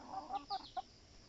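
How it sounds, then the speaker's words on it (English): Backyard chickens just let out of their coop in the morning give a few short, close clucks in quick succession. "This is what my chickens do every morning. They love to fly and fool around once they come out of the coop."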